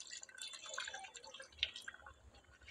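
Water being poured into a pot of mutton nalli nihari while cooking, a faint, irregular trickle and splash with a few drips, quiet and close, heard without talking.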